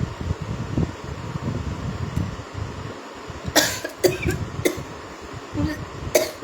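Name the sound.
coughing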